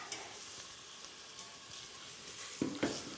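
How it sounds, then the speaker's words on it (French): Food frying in a pan gives a steady, soft sizzle with crackling bursts that grow louder near the end, with no voices. "نخلوهم يحمروا شويه يتقلاو"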